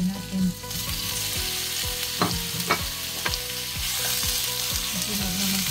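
Pork pieces frying in a small amount of oil for a Filipino home-cooked meal, a continuous close sizzle and crackle with a few sharp utensil clicks and scrapes, no talking.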